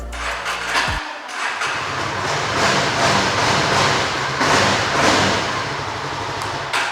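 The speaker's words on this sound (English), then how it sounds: "They're again dual pod exhaust with a single cylinder engine." A Yezdi single-cylinder motorcycle engine runs loud and steady through a dual pod exhaust, a thick continuous drone that stays up close for the whole stretch with no talking.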